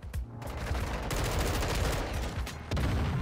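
M4 assault rifle fire in Modern Warfare 2, dense rapid automatic bursts, close and loud, with a brief gap near the start and another break before a final burst.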